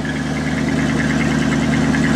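A 1979 Dodge pickup truck idles on a straight exhaust, giving off a loud, steady, throbbing rumble with an even pulse and no talking over it.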